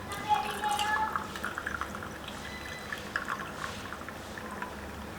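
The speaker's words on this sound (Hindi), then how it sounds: "और इसमें पानी डालेंगे।" Water pours and splashes into a glass of tamarind and plum sharbat with ice, a steady close liquid wash with a faint voice in the background.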